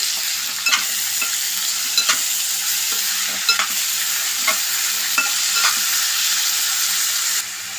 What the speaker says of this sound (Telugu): ఇదిగోండి తోటకూర వేసేసుకుందాం ఇలా కలుపుకుందాం అండి